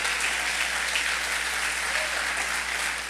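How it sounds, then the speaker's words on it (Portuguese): A church congregation applauds together, steady dense clapping that fills the space at an even, sustained level with a faint murmur beneath. "Você devia aplaudir a Jesus para ver se tu entra lá"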